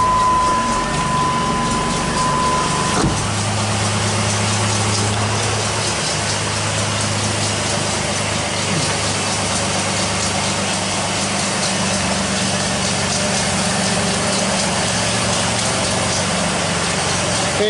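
A 2006 Jeep Liberty engine starts and settles into a steady idle, with a loud, continuous broadband running noise and a low hum that holds throughout, and no talk over it.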